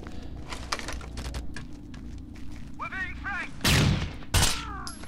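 Gunfire in the video game Rainbow Six Vegas 2: rapid bursts of shots crackle through the mix, ending in two loud, close blasts, with players talking over the action.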